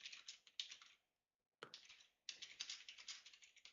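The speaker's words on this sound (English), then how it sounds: "Sorry, I was typing, bro." Fast typing on a computer keyboard during a live futures trading session, rapid clicky keystrokes in bursts with a brief pause in the middle, fairly close and alone without talk.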